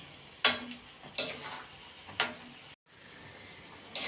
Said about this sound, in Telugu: మనం ఇలా బ్రౌన్ కలర్ వచ్చే వరకు ఫ్రై చేసుకోవాలి.